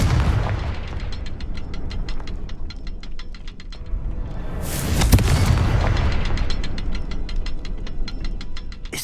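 A Confringo fire spell goes off in Hogwarts Legacy as a loud booming blast midway, set between stretches of rapid rhythmic clicking and low rumble, with no talking.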